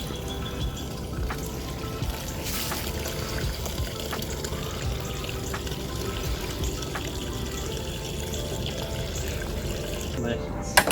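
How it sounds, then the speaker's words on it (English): A horticultural solution trickling steadily out of a gravity feed in the gardens of Vizcaya Museum and Gardens, a continuous soft pour running throughout with a few faint knocks. "Going to use a gravity feed here to disperse the solution rather than a pump."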